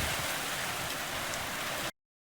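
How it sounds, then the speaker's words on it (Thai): Heavy rain pouring down at a home during a hailstorm, a dense steady hiss of drops hitting surfaces that stops abruptly near the end. "ฝนแม่งตกลงมา"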